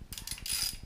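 An Allen bolt on a 2011 Yamaha XT250 motorcycle oil filter housing is snugged with a ratchet, giving a rapid, close, even run of about eight clicks in under a second.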